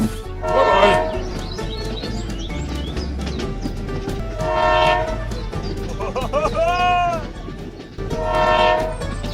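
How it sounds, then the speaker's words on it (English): A goods train pulls away over a constant low rumble, its horn sounding three times at even intervals, with a brief warbling whistle between the last two blasts. "Train departs to deliver goods."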